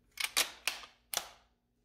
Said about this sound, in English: then the bolt is closed.